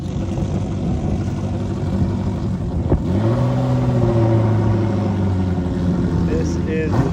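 Ferrari 360 engine driving onto the field at the Cavallino car show, a steady engine drone with a brief thump and a rising rev, heard beneath crowd noise and talking.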